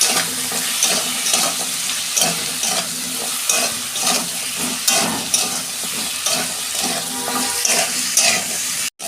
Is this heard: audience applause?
no